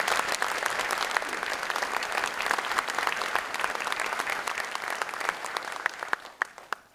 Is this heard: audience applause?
yes